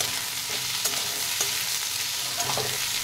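Ginger-garlic paste frying with potatoes and onions in a pan, a steady close sizzle with scattered stirring scrapes throughout, no voices.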